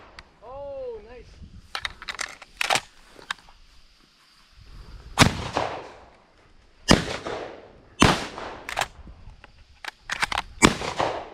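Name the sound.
gunshots while pigeon hunting at abandoned silos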